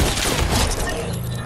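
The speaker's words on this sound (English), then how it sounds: "You shot me through my wall and my stair." Rapid, loud gunfire blasts through a player-built wall in Fortnite, a continuous dense burst of shots that stays close and harsh for its full length.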